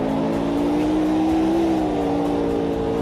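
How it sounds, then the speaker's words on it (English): A historic open-wheel race car in the Automobilista 2 sim drones at a steady, loud engine pitch that swells slightly and eases back over three seconds. "the engine volume was a little bit loud"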